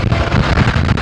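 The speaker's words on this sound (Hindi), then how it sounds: "अभी ठंडी हवा, सही ठंडी हवा चलना शुरू हो गई है।" Cold wind blowing steadily outdoors as rain clouds roll in before a storm, a continuous loud rushing buffet across the microphone with no voices.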